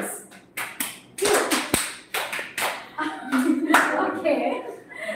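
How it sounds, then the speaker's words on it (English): Sharp, close hand claps in an irregular sequence during a school group exercise, struck near a partner's ears, each a crisp snap, with an instructor's voice talking between and over them. "Give the clap near her ears."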